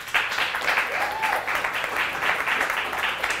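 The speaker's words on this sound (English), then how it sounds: "give me a round of applause." Audience applause during a presentation at a technical college, a crowd clapping in rolling bursts that hold at a steady, moderate level for the whole stretch.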